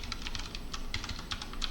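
Close, quick typing on a computer keyboard while writing front-end code, with a steady run of clicky keystrokes and no talk.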